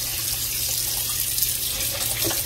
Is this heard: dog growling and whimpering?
no